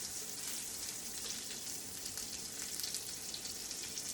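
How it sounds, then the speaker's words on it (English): A New York strip steak sears on a hot stove top at high heat, giving a steady, dense sizzle that holds at an even level from start to finish with no talk over it. "we're just going to sear on the stove top, high temperature"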